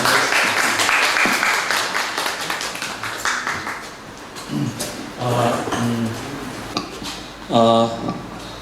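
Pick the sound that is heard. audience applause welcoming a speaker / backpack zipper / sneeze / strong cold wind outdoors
audience applause welcoming a speaker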